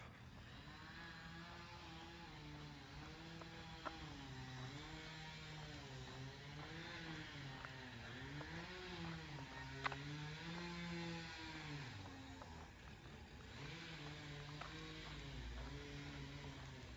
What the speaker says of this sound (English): Seems like everywhere I go lately, I'm hearing chainsaws.